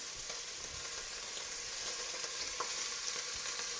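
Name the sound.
beef short ribs searing fat side down in a hot pan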